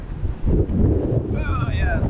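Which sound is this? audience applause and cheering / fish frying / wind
wind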